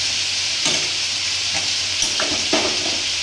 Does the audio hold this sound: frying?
yes